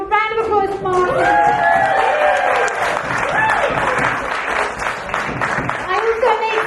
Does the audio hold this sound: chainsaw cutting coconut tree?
no